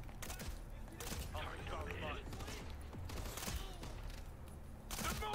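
Sniper rifle fire and scattered battle gunfire in the PS3 shooter Ghost Recon Future Soldier, with sharp reports rising from a dense, continuous game soundscape while a player talks over it.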